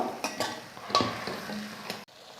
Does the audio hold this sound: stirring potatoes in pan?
yes